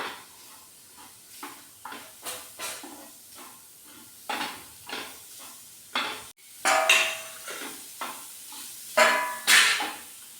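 Banana pieces and freshly grated coconut are stirred in a hot pan. A spoon scrapes in repeated rhythmic strokes over a soft sizzle, close and moderately loud, with no talking.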